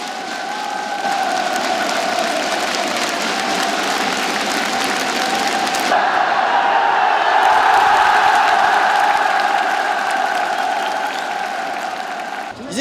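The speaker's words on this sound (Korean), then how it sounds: "환호가 터져올랐습니다" A packed football stadium erupts in loud, sustained cheering and applause after a headed goal from a corner kick, a dense roar of the crowd that swells and holds for many seconds with no talk over it.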